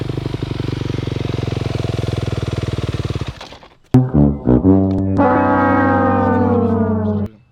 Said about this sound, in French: T'as calé en fait, ça s'appelle caler en fait.